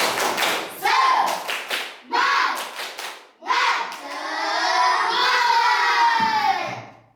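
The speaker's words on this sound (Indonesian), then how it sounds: "sekarang tepuk semangat dulu yuk" A primary school class does a rhythmic spirit clap, tepuk semangat, led by the teacher. Bursts of patterned clapping blend with loud group chanting and children's voices, ending in a long drawn-out shouted call.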